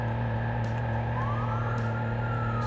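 An armored truck's emergency siren in the video game Watch Dogs 2 holds a steady droning tone with a slow rising sweep, layered over a constant engine hum.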